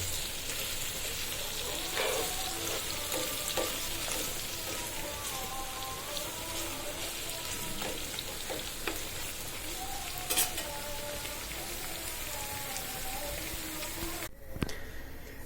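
Spiced fish frying in a pan with brinjal, onion, garlic and green chilies, a steady rain-like sizzle with occasional stirring clatter throughout, while a call to prayer sounds faintly in the distance.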